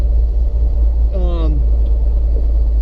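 A Jeep Cherokee XJ with worn transmission synchros shifting gears while driving: a steady low engine rumble with a brief sliding whine as the gear changes, heard close from inside the cabin.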